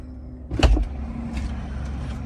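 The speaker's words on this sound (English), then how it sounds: "car will close the charge flap" A brief mechanical whir and soft thunk as the charge flap of a Polestar 2 electric car closes after unplugging, over a low steady background hum.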